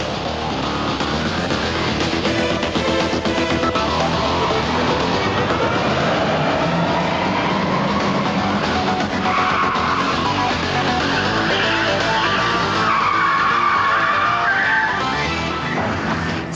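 A BMW saloon car skids around a car park, engine revving and tyres squealing continuously in sustained pitched whines over a steady roar, loud and close throughout.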